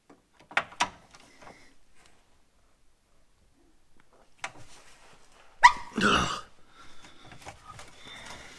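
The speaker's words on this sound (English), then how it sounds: "I heard my dogs barking" Several dogs bark in sharp, separate bursts, a pair early on, then a lone bark and a louder cluster later, heard from a distance indoors with quiet gaps between.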